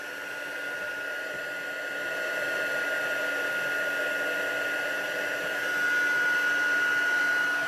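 A heat tool blows hot air over stamped embossing powder on a paper craft sheet, giving a steady whirring fan hiss with a faint high whine, constant and moderately quiet with no talking.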